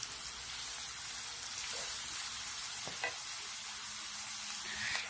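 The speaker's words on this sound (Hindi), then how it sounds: "तो इसको अच्छे से हम फ्राई करेंगे।" Four big, finely chopped onions fry in hot oil for a bitter gourd sabzi, giving a dense, even sizzle like steady rain, with a couple of faint stirring clicks.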